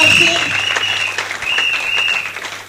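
A church congregation at a worship meeting bursts into sustained applause and cheering, a dense, loud wash of clapping that carries steadily throughout with voices mixed in beneath it.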